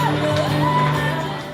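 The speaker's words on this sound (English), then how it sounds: "Let's give them a nice round of applause." Crowd at a bar mitzvah reception cheering and whooping loudly, a dense wash of shouts and voices filling the room with no pause.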